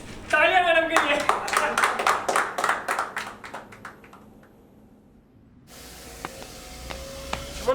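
Applause for a woman in a Hindi short film scene, several seconds of fairly loud, quick hand claps with a voice over them, then fading into quiet with faint background noise.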